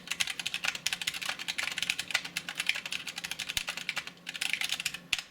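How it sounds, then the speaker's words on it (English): Rapid typing on an EPOMAKER AKKO NEON 3061 60% mechanical keyboard, a dense run of crisp key clacks in quick irregular bursts with a few slightly deeper bottom-out thuds, close and clear. "Let me just type on it for a second."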